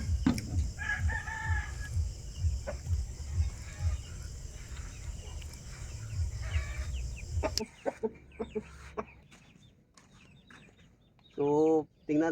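A white Asil Kanawayan rooster in its cage crows and clucks near and clear, with bursts of calls rising over farmyard background noise and brief quieter stretches between them.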